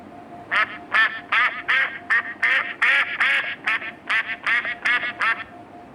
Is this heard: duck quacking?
yes